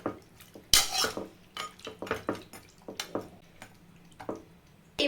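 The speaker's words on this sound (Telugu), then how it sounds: "ఇప్పుడు దీన్ని బాగా మిక్స్ చేసేద్దాం" A spoon scrapes and clinks against a metal pressure cooker as mutton pieces with about half a glass of water are stirred, irregular knocks and wet shuffling sounds repeating close by.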